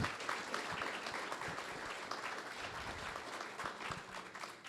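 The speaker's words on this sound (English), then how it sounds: "Can we give them a round of applause, please?" A fairly distant audience at a county supervisor candidate forum gives the candidates a round of applause, with continuous clapping and no speech over it.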